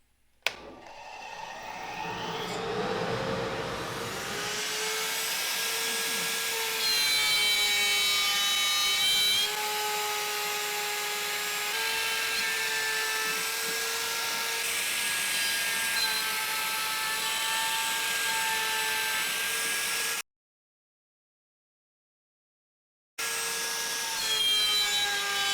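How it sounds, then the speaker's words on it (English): A CNC router cuts wood with a steady whining tone and shifting pitched harmonics, over the continuous roar of a large Cyclone dust collector, close and loud for about twenty seconds, then briefly silent before the noise resumes. "I'm going to try to use my big Cyclone dust collector instead"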